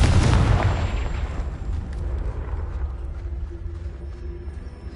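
A Confringo blasting spell cast in the Hogwarts Legacy video game lands as one loud, close burst, then trails off into a long rumbling decay with no voices.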